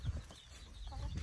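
Baby chicks peeping nearby, soft chirps mixed with faint clucking from farm fowl, quiet and close over a low background hum.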